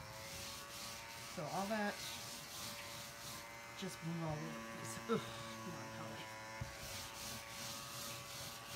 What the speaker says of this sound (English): It is a desk vacuum.